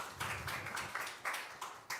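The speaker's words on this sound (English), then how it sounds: "So here's a short round of applause for Ramon and BitVMX." A small conference audience at a Bitcoin summit in Frankfurt gives a short, fairly faint round of clapping, with separate hand claps bunching into uneven bursts across two seconds.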